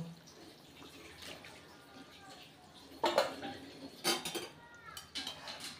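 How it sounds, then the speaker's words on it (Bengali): Fried rohu fish goes into a pot of simmering curry with potatoes and drumstick stalks, giving a few soft clanks and knocks of metal utensils against the pot over low kitchen background noise. "আলু আর ডাটা সেদ্ধ হয়ে গেছে, এবার আমি ভেজে রাখা মাছ দিয়ে দেবো।"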